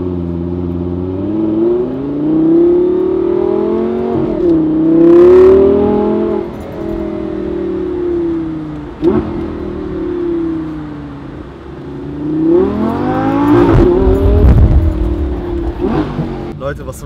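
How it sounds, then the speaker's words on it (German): A Lamborghini sports car accelerates hard in repeated rising and falling revving sweeps, loud and close inside the car, with people talking over the engine. "Den muss man so fahren, ganz ehrlich, der ist dafür konzipiert, um einfach schon damit Gas zu geben"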